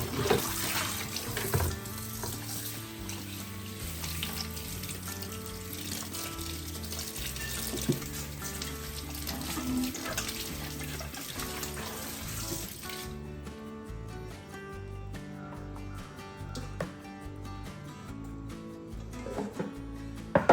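Tap water runs steadily into a kitchen sink while raw chicken is washed, with music playing underneath and a few clinks of handling.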